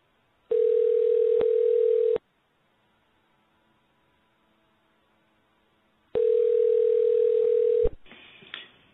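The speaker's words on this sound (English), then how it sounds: "I'm going to dial him live now on the air." A telephone line tone before a live on-air call to an interviewee, two steady loud tone bursts of about two seconds separated by silence, the second cut off by a click and faint line noise.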